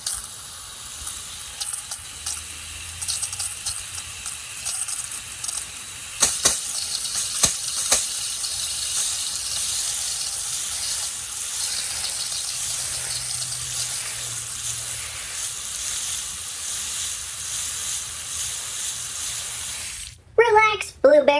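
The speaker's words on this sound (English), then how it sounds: "let's say we hit it with the garden hose" A garden hose sprays water onto a small plastic toy, a continuous bright hissing gush that runs steadily for about twenty seconds with a few splashy bursts, then cuts off abruptly before a short voice at the end.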